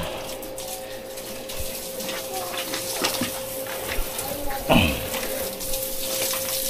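Tap water runs steadily while feet are rinsed after wading in seawater, a continuous close splashing stream with brief louder gushes and faint voices in the background.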